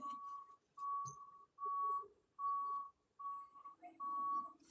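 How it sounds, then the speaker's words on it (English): Steady electronic beeps repeat at a regular pace, six evenly spaced tones from a reversing truck's backup beeper, moderately distant with faint background noise. "That's the sound of a truck backing up."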